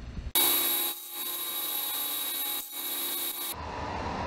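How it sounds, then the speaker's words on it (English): A saw cutting small wooden dowels in a woodworking shop during a wooden pistol build, giving a loud, steady rasping cutting noise that dips briefly twice before stopping abruptly; close, with no speech. "these dowels are so small that every time I cut one off, the blade grabs it and takes it down the hole"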